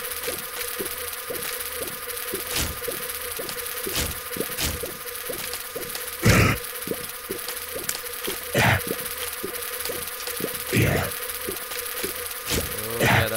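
The Duke of Flies boss fight in The Binding of Isaac fills the scene with a steady swarm of buzzing flies and sharp game hits and thumps over it, loud and continuous.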